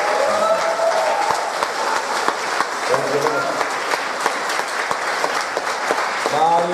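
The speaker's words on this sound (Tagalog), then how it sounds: "Malakas na palakpak." A church congregation at a Friday worship gathering in Kuwait gives loud, sustained applause, with voices speaking and calling out over the clapping.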